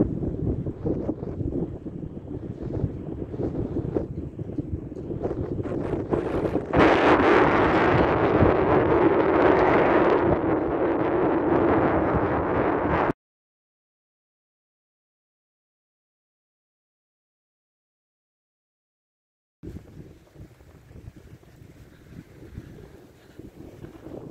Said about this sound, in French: J'espère que vous m'entendez, parce qu'il y a du vent